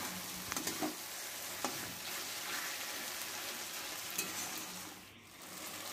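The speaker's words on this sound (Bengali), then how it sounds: "টমেটোটা দেওয়ার পরে কিছুক্ষণ মশলাটা ভেজে নেব।" Spiced masala with a large tomato frying in a pan, for a goat-fat soybean curry, gives a steady, fairly soft sizzle throughout, with a few faint stirring scrapes and no talking.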